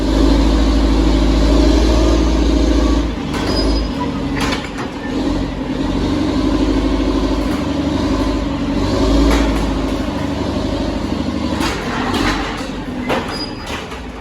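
A Caterpillar D6 dozer being pulled forward during a recovery, with a loud, steady engine rumbling close by throughout and a few brief clanks and knocks over it.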